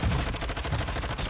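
Rapid gunfire in the video game Call of Duty: Warzone 2.0, a loud, dense run of closely spaced shots filling the brief moment with no pause.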